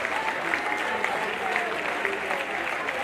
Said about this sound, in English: Please clap for him, clap for the prince.